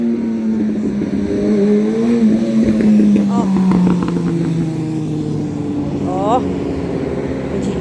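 A motor vehicle passing outside, its engine rising and falling as it goes by at moderate distance, with someone talking over it throughout.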